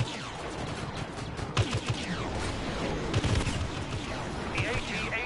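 Rapid turret gunfire rattles in bursts during a Star Wars Battlefront battle, mixed with other shots and explosions, while a player talks over the action.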